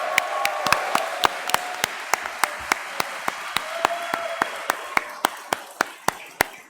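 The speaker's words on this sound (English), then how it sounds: "I just want to give her a round of applause for all the work she's put into the show so far." Audience applause at a live podcast show, a steady run of sharp claps under a murmuring crowd, fairly close and moderately loud throughout.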